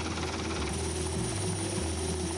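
Helicopter descending toward a ship's deck gives a loud, steady rotor drone with a deep thrumming throb, close and continuous throughout.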